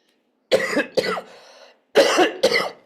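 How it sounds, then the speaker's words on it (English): Four harsh coughs come close and loud, in two pairs separated by a short pause. "Sorry about the coughing."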